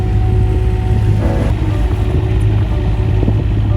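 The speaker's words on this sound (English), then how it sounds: "You probably hear the wind now as well." Strong wind gusts roar steadily over a sailboat sailing off Croatia, a constant loud rush with low rumble and buffeting, no voices.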